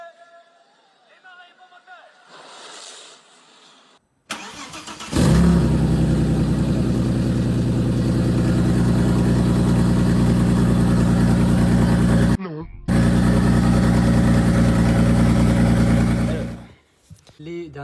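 Audi A4 fitted with an S4 engine swap cranks and fires after some quiet murmuring, then settles into a loud, steady idle with brief revs and a short cut-out before running on.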